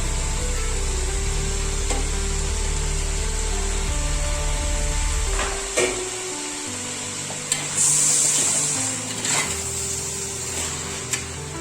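Tomatoes, onions, green chilies, mint and coriander sautéing in a pan, a steady sizzle under a loud droning hum, with a few sharp clatters of stirring.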